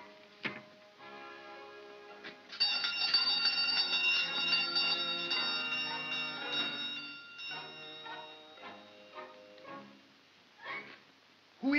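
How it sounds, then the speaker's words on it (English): A doorbell rings in the 1934 Laurel and Hardy film Babes in Toyland, bright chiming tones that ring out repeatedly after a quiet opening and then fade back down. "Ring the bell."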